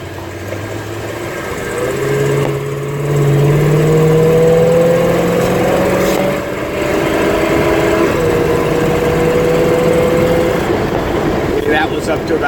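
A 1955 Hudson Rambler engine under hard acceleration, loud and close, its drone climbing steadily in pitch through the gears with brief drops between shifts, then settling to a steadier cruise.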